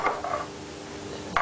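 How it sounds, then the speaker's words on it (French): A spoon stirs honey in a bowl for a chocolate-chicory cake, giving soft scraping and light clinks against the bowl's side, close and quiet, with brighter knocks at the start and end. "Donc là, je mélange le miel."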